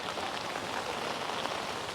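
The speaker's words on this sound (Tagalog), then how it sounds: "Pero umuulan eh." Rain falling at Dipalo River Park in San Quintin, Pangasinan, a steady, even hiss of drops on surfaces, fairly soft and continuous with no voices.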